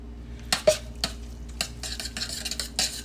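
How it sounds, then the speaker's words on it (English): Israeli couscous with creamy squash and shrimp being mixed in a pan, a series of close scraping and clinking spoon strokes against the pot with a faint background hum and no voices. "Now I'm gonna mix it all together."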